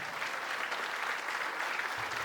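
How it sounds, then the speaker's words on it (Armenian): Audience applause for students' parents at a vocal studio concert, a steady dense clapping from a crowd that fills the whole stretch evenly and fairly loud. "Ես ուզում եմ մի հատ բարձր ծափարենք իմ աշակերտների ողջ ծնողներին։"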